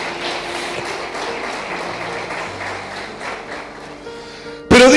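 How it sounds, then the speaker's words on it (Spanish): A church congregation applauds during a Sunday service, a steady wash of clapping across most of the clip, moderately loud and continuous with music tones underneath, ending in a sudden loud burst. "Dale un aplauso al Rey de Gloria."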